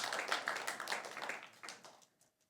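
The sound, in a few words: church congregation applauding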